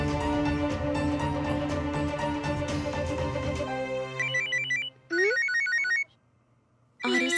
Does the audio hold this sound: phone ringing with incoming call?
yes